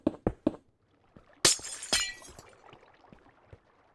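Glass breaking in the DawnCraft video game, heard as three quick clinking breaks followed by two louder shattering bursts, then trailing faint ticks and clinks, with no voice over it.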